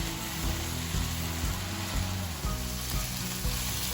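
Mushrooms and onion fry in a pan for a vegan mushroom pâté, giving a steady, close sizzle with soft crackles and a few light stirring knocks throughout, no voices.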